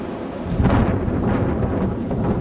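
Strong gusts roar during a December winter storm with heavy snow bands, a loud, rumbling buffet against the microphone that swells after the first half second and holds.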